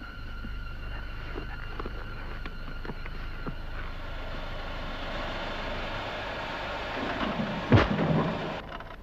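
A V-1 flying bomb from a 1958 Second World War film soundtrack descends with a steady droning rumble, swelling into a sharp loud burst near the end.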